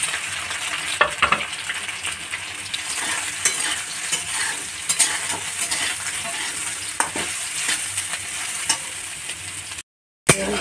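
Soybean chunks shallow-fry in hot oil in a kadai, giving a close, steady crackling sizzle with occasional spatula scrapes and taps, ending in a brief moment of silence.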